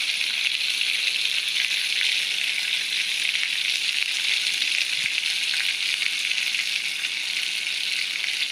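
Panch phoron spices sizzle in hot mustard oil as prawns and spinach are cooked, giving a steady, dense crackling hiss that runs unbroken and close throughout.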